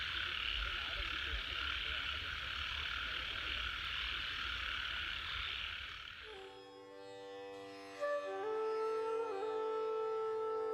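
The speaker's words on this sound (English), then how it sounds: "Listen to those frogs." Dense chorus of frogs croaking steadily in the open night air among boulders at Hampi, India, then it cuts off and a few quieter, drawn-out calls carry on.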